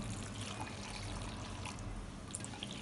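Water is poured into a turnip pickle mixed with ground spices, a steady soft gush and trickle with low background rumble, continuing evenly for a few seconds with no talking.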